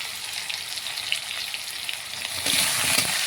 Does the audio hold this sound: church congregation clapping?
no